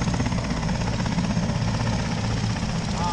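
A helicopter engine drones on a skydiving flight over the Swiss Alps, a loud, continuous rotor-and-turbine roar close by with no talking.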